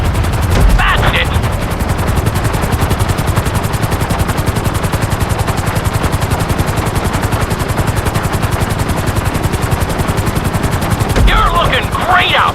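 A helicopter in the GTA 5 video game flies with a loud, steady rotor chop, a fast continuous thumping throughout, nearby and with no talking.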